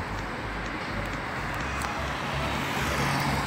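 A car approaching on a city street, a steady broad engine and tire rumble that swells slightly, set against constant outdoor traffic noise.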